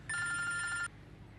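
A landline telephone gives one close, bright electronic ring lasting under a second, then cuts off, leaving a faint room hush.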